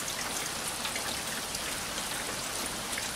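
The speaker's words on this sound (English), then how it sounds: "Watching the rain run down that rain gutter there." Steady rain pattering down and running off a house rain gutter on a wet Georgia day, a soft, even hiss of drops without pause and with no voices.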